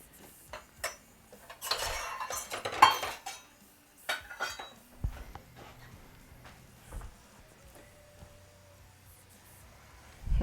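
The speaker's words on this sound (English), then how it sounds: "Let me give this a stir real quick." A utensil stirs cream cheese in a bowl, making irregular clinks and scrapes against the dish in short bursts, close by and fairly quiet.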